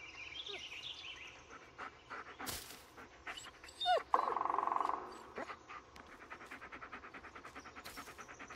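A dog in the horror video game Blair Witch pants, whimpers and gives short yips, with a louder burst near the middle and steady rhythmic panting toward the end, close and moderately loud over a quiet ambient background.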